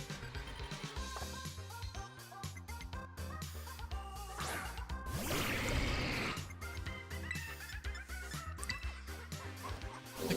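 Several chickens cluck in Pokemon Scarlet over the game's busy music, with repeated short clucks and a louder burst of activity near the middle and no voices.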